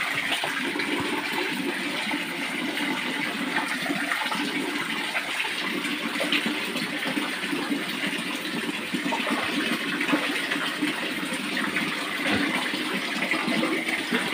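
Water runs steadily from a garden hose into a pet pen pool, a continuous splashing hiss that stays even throughout without a break.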